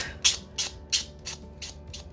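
A buffer rubs a natural fingernail in one direction, six quick rasping strokes in an even rhythm, close and distinct against a quiet background.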